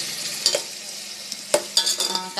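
A big ladle stirs onions frying in a pot, with a low constant sizzle broken by a few sharp scrapes and clanks, close by and with no voices.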